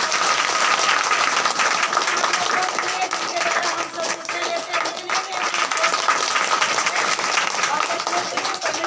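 A church congregation applauds loudly and continuously, a dense, sustained burst of many hands clapping with crowd noise and occasional voices mixed in.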